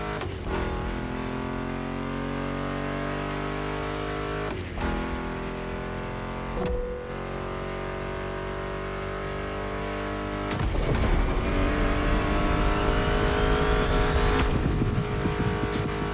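American muscle car engines in The Crew Motorfest rev and drone loudly and steadily for a long stretch, with brief gear-change dips and a louder, rougher surge of acceleration late on; no talking.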